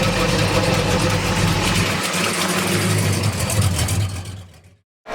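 The General Lee wheelstander car's engine runs loud and close in a steady, heavy rumble, then cuts off abruptly near the end, leaving a brief silence.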